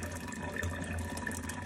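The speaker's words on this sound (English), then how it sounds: "So all you're going to do is you're just going to rinse it in your water." Paint brush rinsed under a running kitchen tap into a paint-stained sink: a steady, close rush of water splashing into the basin, continuous and even throughout with no voices.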